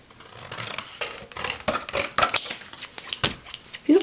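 Freshly sharpened scissors snip into a paper receipt at close range, a run of crisp, quick cutting strokes that grows denser toward the end, with no voices.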